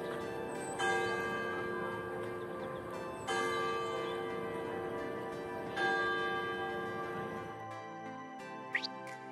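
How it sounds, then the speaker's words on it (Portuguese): Church bells ring at the Santa Luzia sanctuary in Viana do Castelo, Portugal, with three loud, resonant strikes spaced a few seconds apart, each leaving a long humming decay that fades toward quiet at the end. "Sino."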